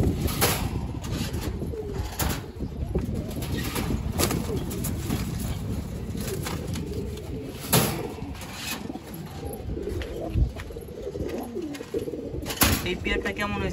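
Pigeons coo repeatedly in a breeding loft, soft throaty calls layered over a steady murmur of birds, with occasional brief flutters and knocks close by.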